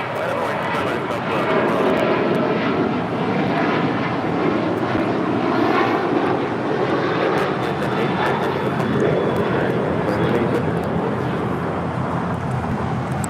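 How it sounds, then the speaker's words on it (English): An American Airlines Boeing 737-800 takes off from LAX, a steady loud jet engine roar sustained throughout, with voices talking over it. "This is American Airlines 2780 taking off to Austin on the 737-800"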